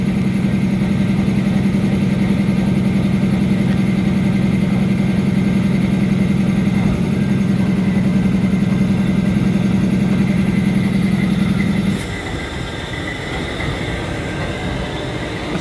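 CSXT locomotive 156 idling with a tied-down spray train at a rail siding, a loud steady diesel drone with a low hum that carries evenly, then drops to a quieter rumble near the end.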